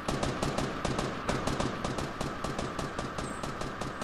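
Rapid automatic gunfire in Fortnite, a fast steady burst of sharp shots rattling on continuously for several seconds, loud and close.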